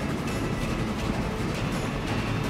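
Trains rumble along the rails in the video game Transport Fever, a steady, loud rolling drone with faint clattering that holds evenly throughout.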